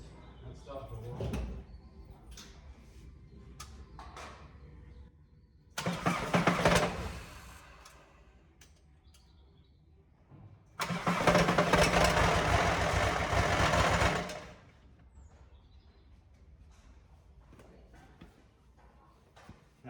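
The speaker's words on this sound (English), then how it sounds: "Well, I started up again and the knocking went." The TDI engine in a VW T25 camper fires up in two short roaring bursts. Quieter stretches with small knocks and rattles separate the bursts, and the second burst runs longer at a rough idle before cutting out.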